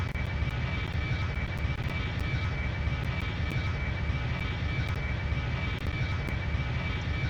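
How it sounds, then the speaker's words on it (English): Jet engine noise from an A321 airliner in the Extreme Landings flight sim video game, a steady, loud, droning roar with a constant high whine and little variation, heard alone with no talking. "It's a very repetitive engine noise, isn't it? Not dreadfully realistic."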